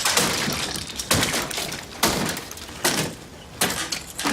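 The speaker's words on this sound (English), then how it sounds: "Tony smashes the gutter." Sharp smashing blows land on a balcony gutter: five or six loud, close impacts spaced irregularly, each clattering briefly before fading, with no voices.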